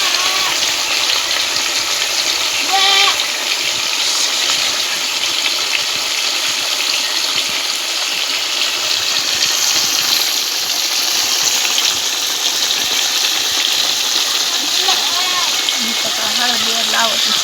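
Fish sizzling in hot oil on a village chul stove, a steady, dense crackling hiss that runs loud and unbroken throughout, with someone talking over it now and then.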